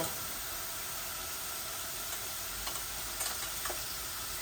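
Dried fish (shutki) and garlic fry in hot oil, giving a steady, close sizzling hiss with a few soft scraping stirs toward the end and no talking.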